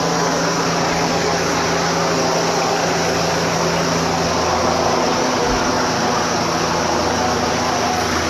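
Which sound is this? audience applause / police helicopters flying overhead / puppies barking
police helicopters flying overhead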